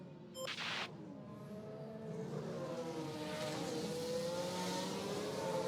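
Oscar Piastri's Formula 1 car in the racing game F1 Manager 2024 at Bahrain, a quiet distant engine note rising in pitch as it accelerates, after a brief sharp click near the start.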